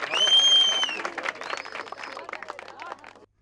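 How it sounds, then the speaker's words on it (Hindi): Audience clapping and cheering at the close of a stage play about equality between boys and girls, dense and fairly loud at first, then thinning into scattered claps mixed with voices and high calls. "ताली बजाइए"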